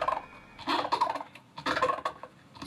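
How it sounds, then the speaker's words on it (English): Squeaky, rubbery friction squeals come in short bursts, a pumpkin being rubbed close up, with quiet gaps between the strokes. "So that is literally rubbing a pumpkin."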